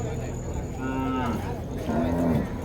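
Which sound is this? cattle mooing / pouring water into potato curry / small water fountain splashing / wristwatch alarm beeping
cattle mooing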